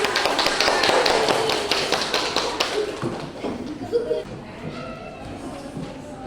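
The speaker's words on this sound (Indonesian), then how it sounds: "Kasih aplaus lagi untuk kelompok apa? Kelompok tulip. Kasih aplaus." A primary school class claps in applause, a dense burst of hand claps that fades after a few seconds into scattered claps and shuffling.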